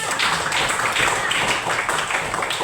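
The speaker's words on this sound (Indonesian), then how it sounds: "Ayo kita kasih tepuk tangannya." A classroom of students clapping their hands in applause, a steady, brisk patter of many overlapping claps that stays even and fairly close throughout.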